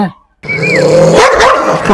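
A dog barks and yips loudly and close by inside a house, in a sharp, steady burst that fills the moment after a brief silence.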